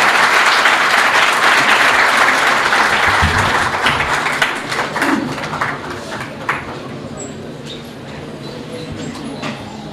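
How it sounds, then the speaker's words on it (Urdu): Loud audience applause at a GC University Faisalabad gathering greets Orya Maqbool Jan, a dense wash of clapping that fades gradually over ten seconds. "آپ کی بھرپور تالیوں میں ان کو دعوت دینا چاہوں گی"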